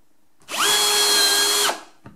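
A Bosch AdvancedImpact 18 cordless impact drill drives a screw in one steady, loud burst of about a second, its motor whine holding level before spinning down, with no talk over it.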